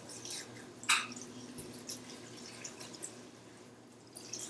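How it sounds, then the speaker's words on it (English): Tap water runs softly while vegetables are rinsed in a kitchen sink, with a low steady flow broken by a few faint drips and splashes. "Rinsing my veg."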